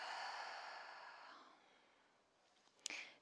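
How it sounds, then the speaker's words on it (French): A big exhale through the mouth during a gentle yoga wake-up session, a soft airy breath that fades out over a second and a half, followed by a quiet lull and a brief faint rustle near the end. "On va prendre une grande inspire par le nez et une grande expire par la bouche."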